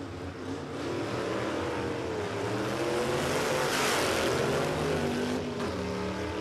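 Drag race at Warwick Dragway between a Falcon Ute and an FJ sedan, a loud, sustained roar of racing engines with rising, sweeping tones as the cars power down the strip.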